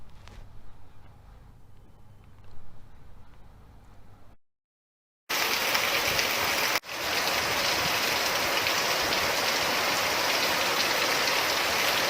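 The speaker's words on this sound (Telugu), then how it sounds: "భారీ వర్షానికి డ్రైనేజీలు వాగులు పొంగి పొర్లుతున్నాయి." Heavy rain pours down in a loud, dense, steady hiss that begins abruptly after a quiet stretch and a brief silence, continuing unbroken to the end.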